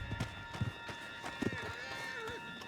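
A horse gallops in the open-world video game Red Dead Redemption 2, its hooves thudding in a quick, uneven rhythm under a tonal game score, with someone speaking over it.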